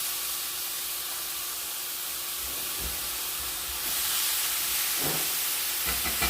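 Skirt steak sizzles steadily in a hot frying pan over medium-high heat, a bright continuous hiss that swells louder partway through, with a few soft knocks.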